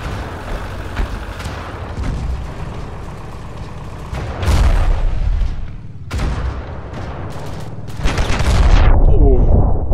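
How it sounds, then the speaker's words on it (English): A tank blows up in the Ravenfield video game amid game combat audio: booming blasts and bursts of gunfire come in loud clusters, with a heavy explosion near the end. "Like this tank blowing up on it right now."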